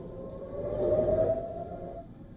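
Air raid siren sounding over Tel Aviv during a missile attack, a sustained wavering tone that swells briefly and then fades, heard from a distance over low background rumble.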